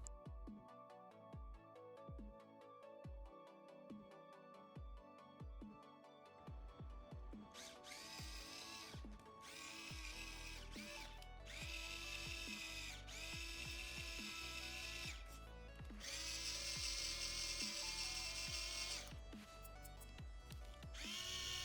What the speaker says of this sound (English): I decide I'm going to drill it out with a suitably sized drill